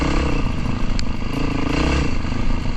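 Yamaha 450 WRF enduro motorcycle with its exhaust baffle removed and only the header fitted, a loud, raw, continuous engine roar with clattery mechanical texture close up.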